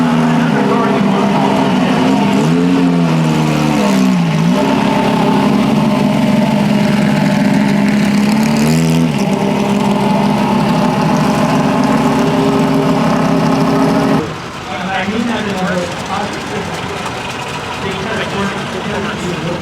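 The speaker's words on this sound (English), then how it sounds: "There it goes, guys. Enzo Ferrari's own 250 California Spider." Enzo Ferrari's own 250 California Spider at a concours show pulls away with a steady, loud engine drone, the pitch rising and dipping, while crowd chatter runs underneath; partway through the engine note thins and fades into background voices.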